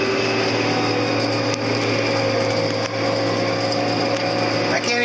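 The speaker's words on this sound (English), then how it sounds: "Now listen, it's going to rev up, and then it's going to stall the head." A Speedrower swather runs loud and steady at close range, its engine droning at high revs while the header strains under load, with a brief dip and recovery near the end.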